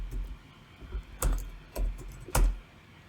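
A few keystrokes of a password on a computer keyboard, three distinct taps spaced out with quiet gaps, close and clear without talk.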